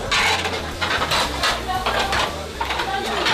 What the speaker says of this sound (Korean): 식사가 시작되면 주방에서는 설거지와의 전쟁이 시작되는데요